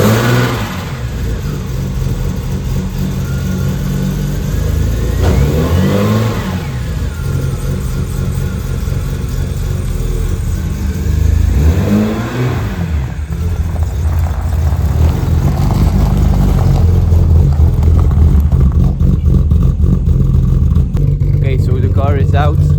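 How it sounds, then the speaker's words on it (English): A rally car engine cranks, catches and revs repeatedly in loud surges, then settles into a steady running drone, close to the listener, early morning before the 6 Hours of Kortrijk rally. "now we are going to start the car"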